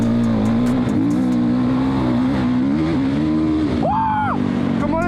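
A car accelerating on snow with a TDS hood, its engine droning steadily and rising in pitch as it revs, loud and close throughout, with a brief higher whine near the end.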